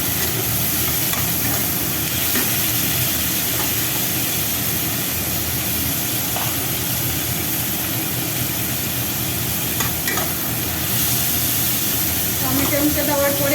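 Tomatoes frying in plenty of oil in a pan with browned onions, a steady loud sizzle and crackle running throughout, with occasional stirring clatter and soft speech underneath.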